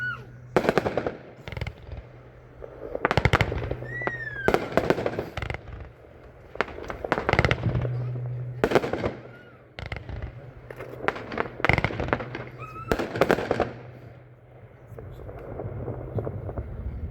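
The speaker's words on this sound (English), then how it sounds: "Next up is number 89, Night King, 36 shots. This is an angle cake from Showtime." Night King, a 36-shot angle cake from Showtime, fires a string of sharp launches and crackling bursts in irregular clusters, loud and close outdoors with wind buffeting the mic.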